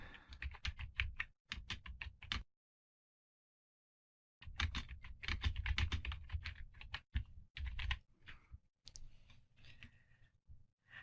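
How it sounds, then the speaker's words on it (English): Someone types on a computer keyboard while writing a blog post, with rapid close bursts of key clicks, a pause of about two seconds, then more typing in uneven runs. "And then you can just simply type away."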